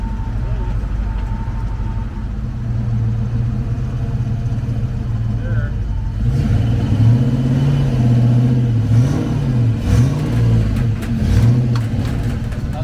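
A Ford Fox body car's engine runs at a steady mid-pitched drone, then revs in rising and falling surges as it climbs onto a trailer, with voices talking in the background.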